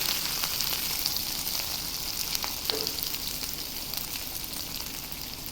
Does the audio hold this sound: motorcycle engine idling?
no